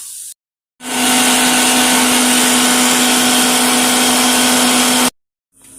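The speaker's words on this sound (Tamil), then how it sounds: "இப்போ அதை அரைக்க போகிறேன்." A mixer grinder whirs loudly and steadily for about four seconds, grinding cooked mudakkathan greens, starting and stopping abruptly, with a sustained motor hum throughout.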